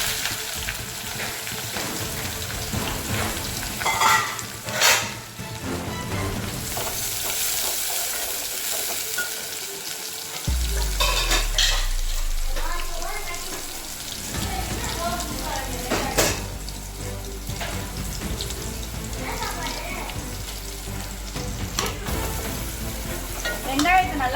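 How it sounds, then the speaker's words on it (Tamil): Chopped onions fry and sizzle in a pan for a potato chicken curry, with a constant crackling hiss and repeated scraping and clinking from a spoon stirring against the metal. "வெங்காயத்தை நல்லா வதக்கிக்கங்க."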